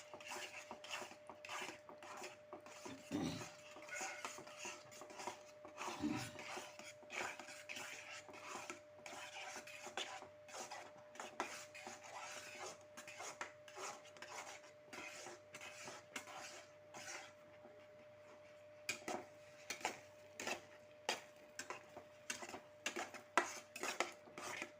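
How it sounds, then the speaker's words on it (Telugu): Halwa stirred in a pan to keep it free of lumps, quiet repeated scraping and clinking of a spoon against the pan, soft and fairly continuous. "ఇట్లా ఉండలు లేకుండా తిప్పేసుకోవాలి"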